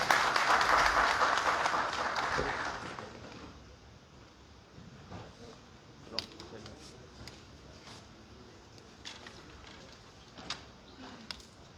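Applause at a press conference in Chad on a mobile money transfer service, a loud burst of clapping at the start that fades within a few seconds, followed by quiet room noise with scattered knocks.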